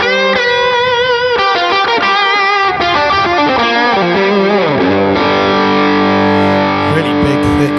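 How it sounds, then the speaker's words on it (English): A Telecaster guitar driven through a Tube Screamer overdrive on an HX Stomp, playing a continuous loud melodic line of bending notes that settles into sustained, thick chords. "And then if I turn the tube screamer on,"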